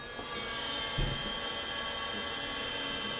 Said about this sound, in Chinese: 我们来做一个1分钟的全油门的流量测试